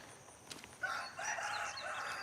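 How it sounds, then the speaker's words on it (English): Backyard chickens cluck and a rooster crows nearby, a short burst of fowl calls rising over a faint outdoor background. "Shut your face, chickens."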